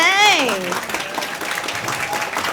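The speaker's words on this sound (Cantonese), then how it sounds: "請大家俾掌聲" Wedding guests at a Hong Kong wedding break into a burst of clapping right after a short voice. The applause is a dense, steady patter throughout.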